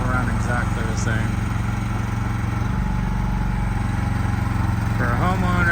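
Small gas motor of an AGT QH13R mini excavator runs at a steady, buzzing idle close by, droning continuously while a person talks over it.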